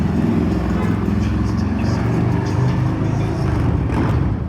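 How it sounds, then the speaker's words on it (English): Several motorcycles pass along a street on a busy morning, their engines making a continuous, loud, close rumble with rising and falling revs for the whole stretch. "suddenly all the motorcycles came in"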